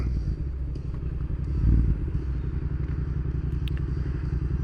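A 1500-watt throttle-driven electric bike cruises along at speed, giving a steady low rumble with road noise and occasional faint clatter throughout.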